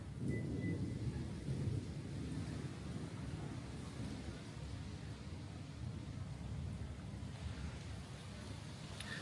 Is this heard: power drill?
no